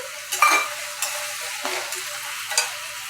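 Soft sizzle of paneer bhurji frying in a pan on a raised gas flame, broken by several light scraping strokes of a spoon as it is stirred, fairly quiet and without talk.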